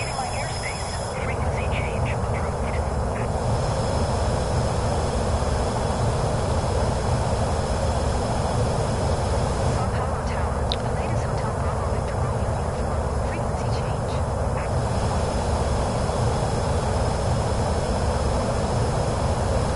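Aircraft engine in Microsoft Flight Simulator 2024 on PS5, a loud, steady broadband roar that drones without pause throughout, with faint higher whines and clicks briefly surfacing above it.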